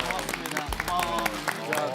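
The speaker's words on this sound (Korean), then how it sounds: "윤기는 이 박수 한번 주세요" Studio audience and hosts clapping to welcome a new commentator on a Korea versus China sports broadcast; a short burst of applause mixed with chatter and laughter, close and moderately loud.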